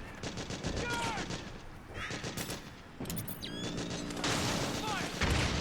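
Rapid gunfire and scattered shots in a Metal Gear Solid 4 battle, dense and continuous with metallic mechanical clatter and ricochet-like whines, while voices shout over it.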